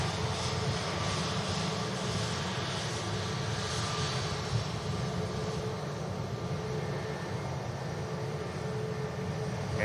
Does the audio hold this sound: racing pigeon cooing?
no